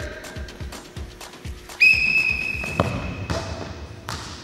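A referee's whistle sounds one long, loud, sharp blast to signal a penalty kick in an outdoor team skill challenge, breaking over a background of rhythmic bouncing thuds.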